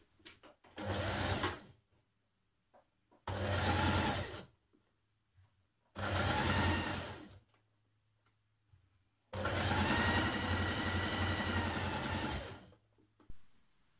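A home sewing machine stitches a 1.5 cm seam on a blouse (Simplicity 9045 top). It runs in four close, steady bursts separated by short pauses, and nobody speaks.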